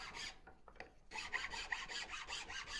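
A finer rasp shapes and cleans out a carved spiral on a wooden twisty spoon, its close, dry, scratchy strokes coming quickly and rhythmically after a few scattered scrapes, with no voices.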